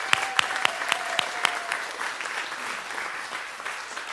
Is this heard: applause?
yes